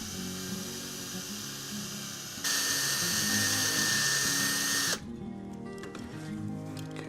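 Power drill boring out a rivet on a Matchbox 37C cattle truck model, a steady high-pitched whine close by that grows louder in the middle section, then drops to a quieter spin.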